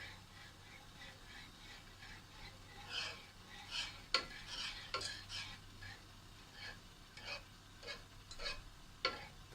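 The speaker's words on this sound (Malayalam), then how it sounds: "തീ കുറച്ച് വെച്ചിട്ട് നമ്മൾ ഇതുപോലെ ഇളക്കിക്കൊണ്ട് തന്നെ ഇരിക്കണം." Jaggery and rice flour mixture being stirred in a pan over low heat for Pesaha appam, quiet scraping and clinking strokes at an irregular rhythm over faint low background hum.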